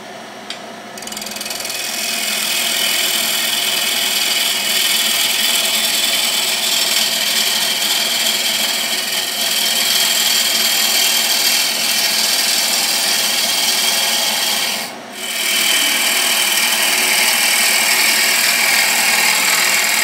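Wood lathe rough-turning an elm bowl, a steady loud whirring hiss of the gouge cutting that runs nearly continuously, with one brief break partway through.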